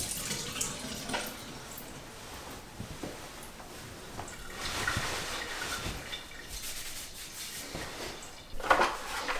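Running water rinsing hair during a home fade haircut, a steady soft splashing and trickling flow lasting throughout at low level, with no talking.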